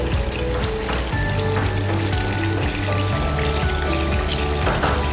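Banana fritters (pazhampori) frying in a small amount of oil, giving a steady, dense sizzle throughout at close range, with a low tonal hum underneath and no voices.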